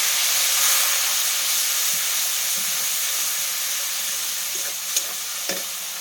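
Bengali home cooking for a rohu fish curry: chilli powder, ground spice paste and water hit a hot pan, giving a steady, loud broadband sizzle and hiss with a few soft stirring clinks near the end.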